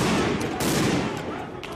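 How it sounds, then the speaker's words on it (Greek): Rapid, sharp bangs and cracks of police flash-bang grenades burst out amid loud crowd noise at a clash between police and protesting farmers with tractors, a chaotic cluster of explosive pops close by. "Οι αστυνομικοί απαντούν με χρήση χημικών και κροτίδες πρώτου λάμψης."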